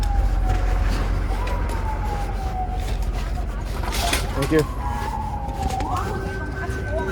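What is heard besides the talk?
emergency vehicle sirens behind the speaker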